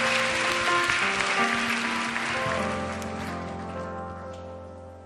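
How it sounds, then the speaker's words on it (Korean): A church congregation at a Tuesday worship gathering claps to welcome a pastor to the front, with steady applause blending with sustained organ or keyboard chords and fading slightly toward the end. "이상윤 목사님 나오실 때 큰 환영의 박수 보내주시면 좋겠습니다."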